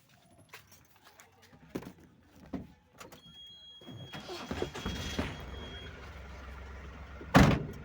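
A car approaches near a resort, its engine rising into a broadband rush over a few seconds before fading, preceded by faint knocks and a short thump, with a voice calling out.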